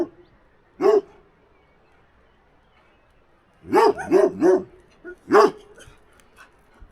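A small brown dog barks at a derelict Soviet spa: one sharp bark, a pause, then a quick burst of three barks and a final single bark, fairly close and clear against a quiet background.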